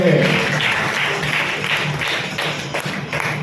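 Church congregation clapping in a steady rhythmic beat, repeated bursts of many hands roughly three times a second, loud and close, carrying on without talk.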